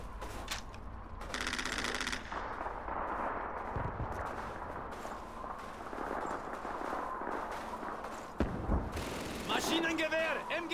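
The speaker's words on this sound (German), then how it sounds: "Maschinengewehr, MG42, bei der kaputten Mauer in Nordosten." MG42 machine gun fire in Call of Duty 2 at the Stalingrad station, with rapid bursts of automatic fire and dull impacts amid battle noise, while a voice talks over it.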